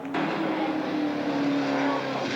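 A NASCAR-group race car at Medford Speedway at the 1987 Roseburg Outlaw 100 roars past with a loud, steady engine drone and a sustained high-revving tone, no speech.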